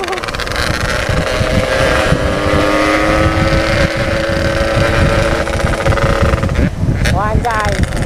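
A Yamaha RX-King two-stroke motorcycle with an aftermarket exhaust revs loud and close, a raspy droning buzz holding steady before dropping and surging again, heard amid wind noise and a voice speaking.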